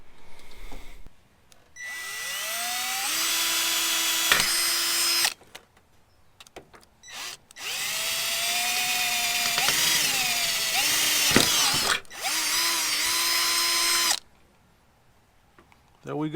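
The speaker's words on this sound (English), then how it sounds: "So let's drill some holes." A cordless power drill bores holes into a 100 series Land Cruiser (Lexus LX470), three loud sustained whining bursts rising in pitch as the motor spins up, separated by short pauses.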